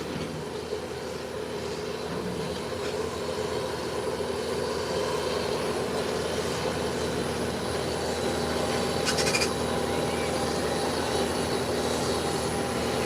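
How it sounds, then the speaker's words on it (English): An American Airlines jet turns on the ground before takeoff, a steady, distant engine roar and rumble holding at a constant level throughout. "Whilst American Airlines is making its 180 in preparation for takeoff."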